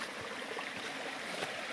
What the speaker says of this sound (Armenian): Սառը աղբյուրի ջուր է